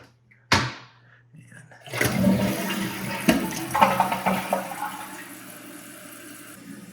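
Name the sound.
toilet tank refilling water into bowl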